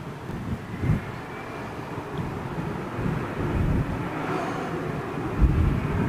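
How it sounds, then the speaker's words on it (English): An Air India Airbus A320neo airliner returning from circuit flight tests produces a steady, distant low jet rumble mixed with wind buffeting, constant in level with no voices. "Air India 320 Neo on its way back in from circuit tests, flight test"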